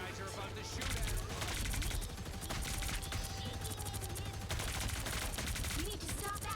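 Enemy gunfire in the Marvel Rivals video game: continuous rapid automatic shooting and overlapping bursts, loud and dense throughout, with voices talking over the battle.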